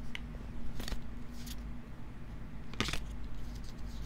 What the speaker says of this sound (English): My shuffling is pretty cool.